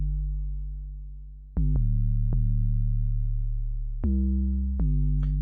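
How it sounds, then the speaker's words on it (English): An 808 sub bass line programmed in FL Studio plays alone as a deep, sustained low tone, retriggered in several sharp-attacked notes that slide and hold across the phrase. "Really simple, just 808 sub thing."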